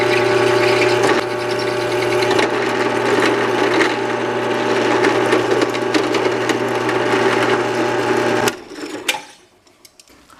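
A power drill bores a 5/16 inch hole in a homemade metal mounting bracket for junkyard driving lights, a loud continuous whine held for about eight seconds before it cuts off into faint handling noise.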